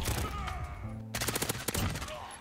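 Honey Badger M13 rifle firing in Call of Duty Modern Warfare, with dense bursts of close, loud shots in the second half after a brief lull, over busy game sounds.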